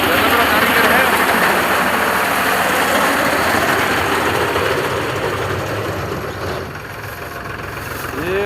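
A tractor engine runs steadily in a millet field, a loud continuous rumble with mechanical rattle that eases slightly toward the end.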